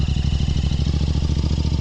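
A Bajaj Pulsar motorcycle races alongside on the road, its engine a loud, close, rapid pulsing thrum held steady for a couple of seconds with no talk.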